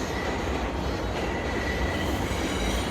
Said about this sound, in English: And there again is the B train. This one is headed towards Coney Island.